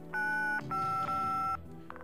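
Telephone dialing tones play from an old VHS tape, with three clear electronic beeps of different lengths over a faint hum of tape hiss, then a fainter blip at the end.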